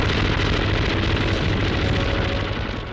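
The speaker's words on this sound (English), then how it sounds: "So when this thing goes off, it doesn't sound like a machine gun. It sounds like you take a big piece of canvas and tear it." MG42 machine gun firing a sustained burst at a very high rate, a loud continuous ripping roar like tearing canvas, with no gaps between rounds, dense and unbroken for the whole stretch.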